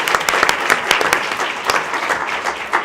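Audience at a school board meeting clapping steadily, a dense spread of many hands with sharper individual claps popping out, fairly close and filling the room without any talking.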